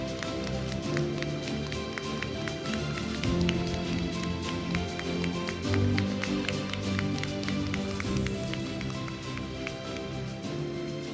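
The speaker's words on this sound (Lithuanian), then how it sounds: "turės būti labai garsus aplodismentai" Continuous applause for a longtime tailoring department teacher at a refashion event, dense clapping held at an even level under tonal background sound throughout.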